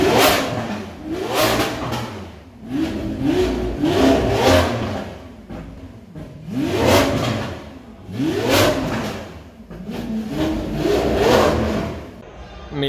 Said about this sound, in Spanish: el Aventador, un auto que justo antes de que me fuera lo pusieron en marcha